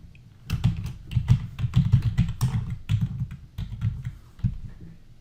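Login credentials are typed on a computer keyboard for a virtual machine, a close run of crisp key clicks in uneven bursts with short pauses, no voices over it.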